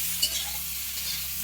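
Aloo dum, a potato curry, cooking in a pan at home, giving a faint, steady sizzle with a soft stirring touch near the start.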